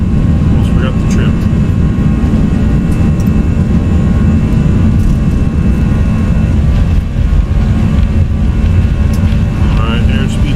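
Airbus A319 jet engines at takeoff thrust in the X-Plane 11 flight simulator: a loud, steady, dense engine roar that holds unbroken throughout.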